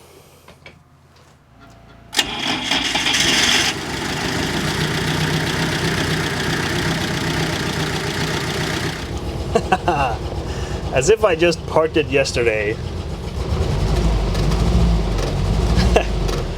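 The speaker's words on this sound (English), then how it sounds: "Does sound like it's misfiring a little bit." A UAZ 469 engine cranks, catches and settles into a loud, rough idle with an uneven misfiring stumble, steady and close, while someone talks over it.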